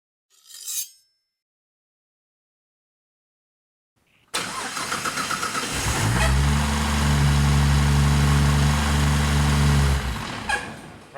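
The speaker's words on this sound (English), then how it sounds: "so I'll crank it now" Ford Mustang engine cranking briefly and catching, then settling into a loud, steady idle close by after a short quiet pause.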